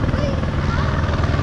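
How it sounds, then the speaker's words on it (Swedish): Steady close engine and rotor drone from a helicopter, loud and continuous throughout with a low rumbling pulse and broadband noise, voices faintly present under it. "Vi ska flyga helikopter nu."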